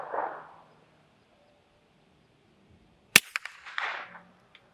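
Rifle fired over a Caldwell Ballistic Precision chronograph: one sharp, loud supersonic crack with a quick echo tail and a few short follow-up clicks, after a stretch of near silence and faint breath noise.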